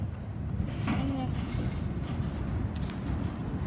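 An intermodal freight train rolls along the S line with a steady low rumble and rolling clatter, heard close and continuous while a person speaks briefly over it.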